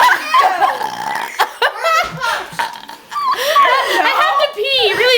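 During a burping contest among kids, loud drawn-out burps sound close to the mic, mixed with children's chatter and laughter throughout.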